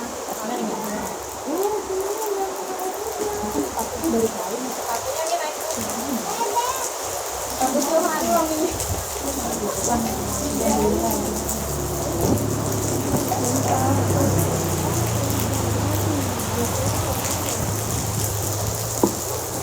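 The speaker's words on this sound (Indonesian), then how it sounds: "ini hujan jadi nggak kerasa panasnya" Heavy rain pours steadily with rumbling thunder rolling through the background, a continuous loud wash of sound throughout, while a voice speaks over it.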